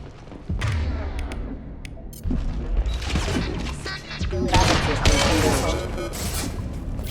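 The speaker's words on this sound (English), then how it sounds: "Why am I using a shotgun? Stop using a shotgun." Shotgun blasts and combat noise in the Mass Effect 2 video game, several heavy booming shots amid crashes and clatter, loud and close, with some talk mixed in.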